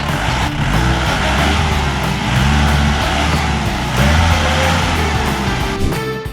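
A manual safari jeep stuck in the Sri Lankan jungle revs steadily while people push it, a loud, continuous engine roar that holds for several seconds without letting up.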